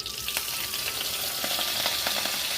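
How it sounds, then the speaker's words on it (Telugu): Curry leaves tossed into hot oil in a home kitchen give a steady, close crackling sizzle with sharp spitting pops scattered through it, and no one talks over it. "కరివేపాకు వేసుకోండి"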